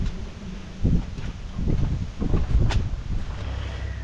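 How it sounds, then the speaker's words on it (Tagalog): Strong wind gusts across a riverside farm plot, a low buffeting roar on the microphone that surges in uneven bursts, with faint rustling mixed in. "sobrang lakas ng hangin"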